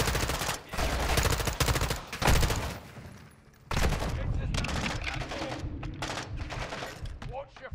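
Heavy automatic gunfire in Call of Duty: Modern Warfare II: dense bursts of loud rapid shots with a brief lull midway, then sustained firing, with voices shouting over the battle.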